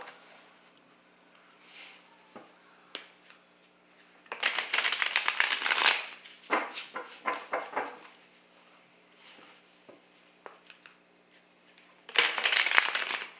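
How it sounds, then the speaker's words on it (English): A deck of tarot cards being shuffled by hand, with quiet riffles and taps, two long bursts of rapid close-up flapping, and brief rustles between them in a quiet room. "I'm going to shuffle really quick."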